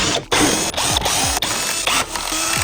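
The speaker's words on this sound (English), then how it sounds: "So we removed all the bolts." A hand ratchet clicks in quick, close repeated strokes while removing bolts from the fan shroud of a BMW with an S85 engine.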